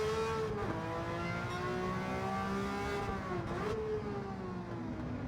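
A Ferrari P4 330 race car engine in Gran Turismo 7 howls at high revs, holding a steady loud pitch with brief dips at two gear shifts, close and alone.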